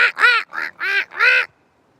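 A person imitates a female duck with four loud, nasal quacks in a quick rhythmic series, close and clear, then silence.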